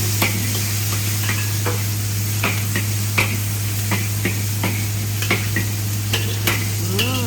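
Fried rice stirred with a ladle in a pan, giving a steady sizzle with sharp, irregular metallic scrapes and taps of the ladle, set against a constant low hum.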